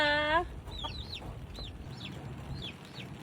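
Egg-laying hens cluck in short, rising calls at a moderate distance, several in a loose sequence over a low background hum.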